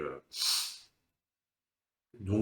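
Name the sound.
sniffing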